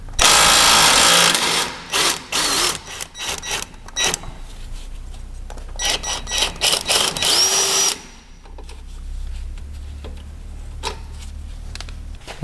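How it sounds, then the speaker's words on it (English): Loud mechanical bursts of an impact wrench hammering in short rapid runs while undoing a bolt on a Mitsubishi L200's front shock, stopping and starting several times, then a quieter rumble toward the end. "Now we're going to use our impact wrench here to undo this side"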